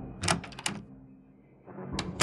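A lounge door opens in the mystery video game Frequency Missing: a few sharp mechanical clunks and rattles up front, a quiet pause, then more knocks at the end, close and moderately loud.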